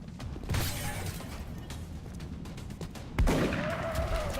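Shotgun blasts in the XCOM strategy game: a few sharp, loud reports stand out, with the heaviest hit near the end, over a busy bed of battle effects and mechanical clatter.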